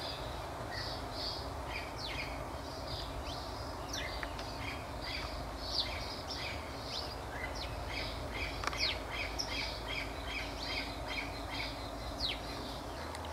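Assorted birds perched in an Emburana tree give a steady mix of faint chirps, squawks and calls, with insects humming softly underneath; no voices are heard.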